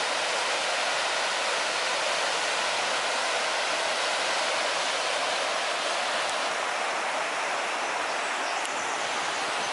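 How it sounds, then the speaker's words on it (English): River rapids on the Pennine Way roar in a steady, dense rush of white water that holds constant and loud throughout, with no voices over it. "Look at that, you can just feel the power of the rapids there."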